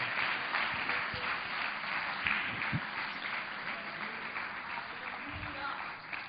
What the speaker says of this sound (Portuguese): Dê um aplauso ao Senhor Jesus Cristo.